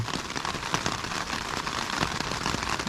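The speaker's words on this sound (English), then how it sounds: "It's raining." Rain falls steadily in a dense, even patter of drops on a surface, close and continuous with no voices.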